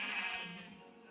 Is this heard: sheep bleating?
yes